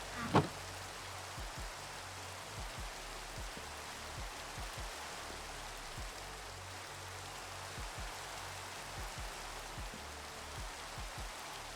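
Continuous rain patter in the game Nomifactory with a steady broadband hiss, plus faint repeated low ticks throughout and one sharp click at the start.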